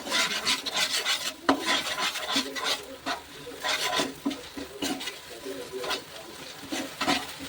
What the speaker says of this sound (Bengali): এই যে কর্নফ্লোর দিয়েছি, জল দিয়েছি, এটা মিক্স করে এটার মধ্যে ঢেলে দেবো।